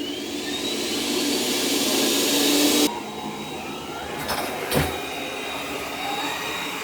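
A Lydsto W2 Edge robot vacuum runs through an apartment while mapping, giving a steady, close whirring drone that drops abruptly to a lower hum partway through, then sharp bumps and clicks.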